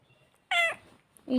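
A cat gives two short meows, the first louder and higher, the second lower, in an otherwise quiet space.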